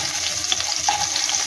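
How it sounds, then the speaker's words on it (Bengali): Grated ginger and green chillies fry lightly in hot oil for aloo dum, making a loud, steady sizzling hiss with small stirring scrapes close by. "এবার আমি এইগুলোকেও হালকা করে ভেজে নেব।"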